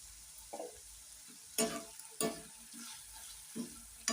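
Spices frying in a pan for a mango-ginger pickle, a quiet steady sizzle under a few sharp scraping stirs spaced about a second apart, no voices.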